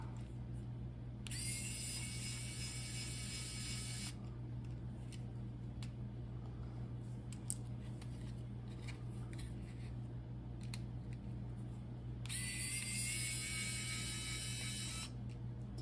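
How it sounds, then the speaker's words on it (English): A small electric precision screwdriver with built-in LED lights removes tiny screws, giving two short, high whirring bursts about three seconds long, separated by a stretch of quiet handling noise over a steady low hum. "You can see it's really quick and easy to use this to take off these screws."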